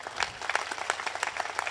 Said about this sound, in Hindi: हम सब शुभकामनाओं की एक बार जोरदार तालियां देकर